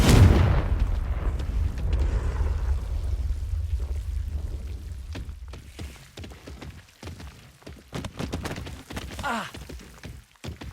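Fire and blast spells in the Hogwarts Legacy video game: a heavy booming burst opens, then a rumbling fiery roar decays into scattered cracks and crackling impacts, loud and close.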